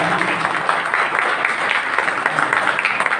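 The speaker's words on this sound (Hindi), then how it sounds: "उनके सम्मान में एक बार जोरदार तालियां जरूर होनी चाहिए।" Steady applause from a crowd at a Jain monk's memorial tribute, dense clapping that holds at an even level throughout without breaks.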